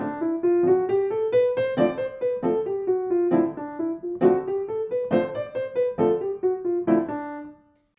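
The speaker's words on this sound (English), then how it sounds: "I'm also going to give you the rhythm on how to play that properly as if you were soloing in eighth notes." Jazz piano runs through a bebop scale in swung eighth notes, a steady stream of bright single notes rising and falling in a lilting uneven pulse, clear and close with no voices.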